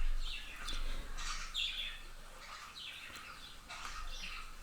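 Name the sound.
pet parakeets squeaking and chirping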